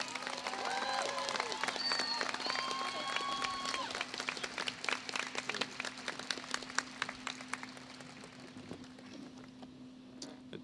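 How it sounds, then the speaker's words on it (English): A university commencement audience claps for two graduates at Oglethorpe University's 2016 ceremony, a broad patter that slowly thins and fades, with a steady hum and voices sounding faintly over it. "Please, once again, give me a round of applause for Ty and Monica."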